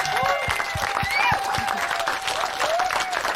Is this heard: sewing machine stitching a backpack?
no